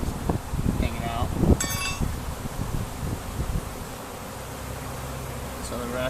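Honeybees buzz in a hive a day after package installation, a dense steady drone close by, with a few rustling knocks early on and a person speaking over it.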